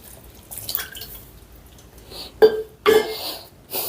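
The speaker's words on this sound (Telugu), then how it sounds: "ఇప్పుడు ఇందులోనే ఒక హండ్రెడ్ ఎంఎల్ వాటర్ కూడా యాడ్ చేసుకుందాం" Water splashes into stuffed brinjal masala gravy in a pan, with short close pours around the middle and one more near the end against a quiet kitchen background.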